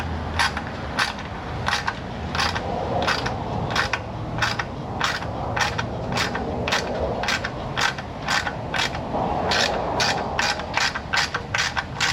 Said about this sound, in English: Let's see if I can clean them threads up in that pan a little bit.